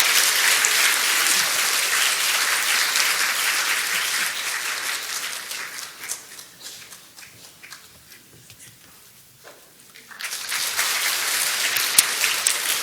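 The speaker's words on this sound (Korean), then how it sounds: "힘찬 박수로 환영해 주시기 부탁드립니다." A church congregation welcomes new members with loud, sustained applause that fades into a lull midway, then swells back to full strength near the end.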